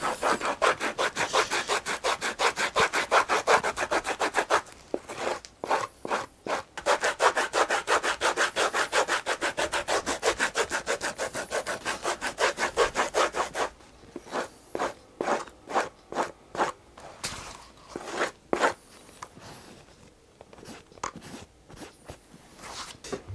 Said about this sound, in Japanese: 次はヤスリでさらに削っていきます。